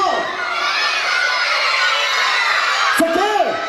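A TV studio audience of children shouts and cheers loudly and continuously, a dense crowd roar with excited whoops rising near the end.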